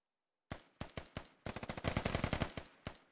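Gunfire from the military shooter game Squad: several sharp, close single shots, then a rapid rattling automatic burst and one final shot, with no talking.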